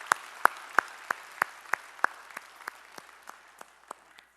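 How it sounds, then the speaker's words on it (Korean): A Korean church congregation claps together in a steady, regular rhythm during a Sunday worship service, about fourteen crisp unison claps that gradually soften and fade. "우리 찬양을 받으실 주님께 영광의 박수 올리겠습니다."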